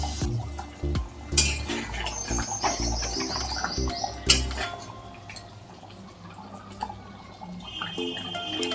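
Prawn and pointed gourd curry with coconut milk stirred in a pan over high gas, with scattered clinks and scrapes of the utensil against the metal, a busy sizzling bed and kitchen clatter, no talking.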